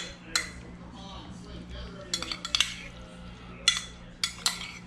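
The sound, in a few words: mixing raw fish poke with sesame oil in a bowl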